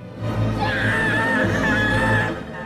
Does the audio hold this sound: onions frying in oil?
no